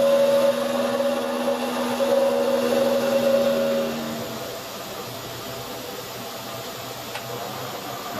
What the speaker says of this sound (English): There's a spacer between the 2 bearings that's rattling around inside there.